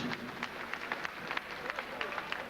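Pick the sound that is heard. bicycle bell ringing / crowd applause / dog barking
crowd applause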